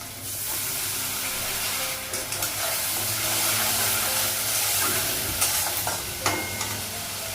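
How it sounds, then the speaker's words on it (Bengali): Spices fry in a pan on a gas stove as a little water is added, a loud, steady sizzle and hiss throughout with occasional scrapes and clinks of stirring. "একটু মশলাটা ভেজে নিয়ে অল্প জল দিই"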